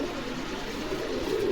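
Domestic pigeons coo softly at a pigeon farm in Bogura, a steady low murmur of several birds close by with no talking.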